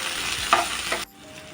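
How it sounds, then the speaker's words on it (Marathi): Half a chopped tomato frying in hot oil gives a brief, close sizzle with a light stirring scrape, then cuts off abruptly into near quiet. "अर्धा टोमॅटो कापून घेतला आहे मी तो पण टाकू आणि नरम व्हायला देऊ तेलामध्ये"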